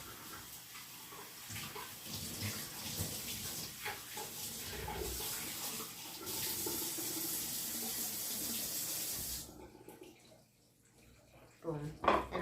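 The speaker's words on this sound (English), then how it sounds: "I'm going to rinse them out" Tap water runs steadily over spaghetti squash halves in a kitchen sink, a loud continuous splash and hiss for about nine seconds before it cuts off, leaving quiet handling sounds.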